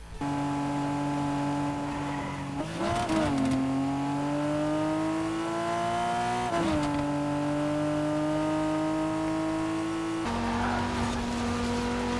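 A steady Fortnite car engine drone with shifting pitch, a few abrupt gear-change jolts and brief scuffs, continuous and fairly loud with no talking.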